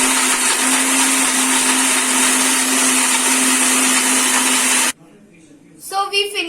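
Mixer grinder whirring as it grinds cooled spices for a paneer dish, a loud steady high-pitched motor whine for about five seconds that stops abruptly, followed by quiet room noise and a voice starting to talk.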